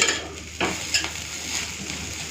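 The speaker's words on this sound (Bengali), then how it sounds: "উচ্ছে আর আলুটাকে লাল লাল করে ভেজে নিয়েছি" Bitter gourd and potato frying in a pan: a steady close sizzle with a few scraping stirs and light clinks.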